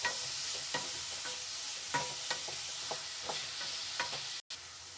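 Chopped medium-sized tomatoes fry in a pan for a curry, giving a soft, continuous sizzle under repeated light scrapes and clicks of a spoon stirring, close and fairly quiet.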